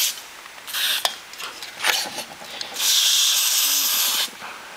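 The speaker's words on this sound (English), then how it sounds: "we'll get a bit of silicone spray here. Just a Loctite brand silicone spray." Loctite silicone spray hisses from an aerosol can in several short bursts and one longer sustained blast, close to the microphone, during servicing of a Honda GX 140 engine.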